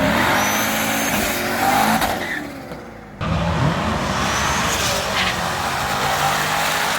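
Supercharged C5 Corvette V8 with stock exhaust roaring loudly and continuously up close, with a brief dip in the middle before the engine surges back to full volume.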